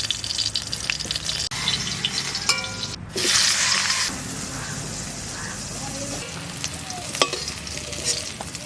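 Brinjal curry ingredients lightly frying in oil in a village-style kitchen, a steady close sizzle with occasional stirring scrapes and a brief louder burst of hissing near the middle.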